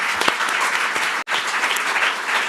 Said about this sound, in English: can we have a round of applause for our sign interpreters, Mac and Alex?